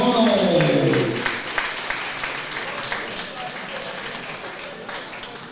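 Audience applause after a junior 50 kg boxing final at the Eastern District School and Junior Championships. A voice speaks briefly at the start, then a steady patter of many hands clapping continues alone, fading slightly toward the end.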